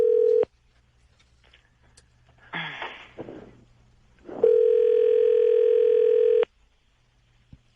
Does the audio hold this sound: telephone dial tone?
yes